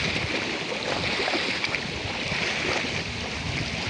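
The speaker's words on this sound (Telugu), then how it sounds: "చూడండి ఎంత ప్రశాంతమైన సముద్రం." Calm sea waves wash steadily near the Karwar–Goa bridge on the coast, a continuous broadband surge with wind rumbling across the microphone throughout, no voices present.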